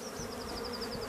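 Honey bees buzzing around an opened hive during a floor replacement, a steady close swarm drone with one bee whining past in repeated pulses, no voices.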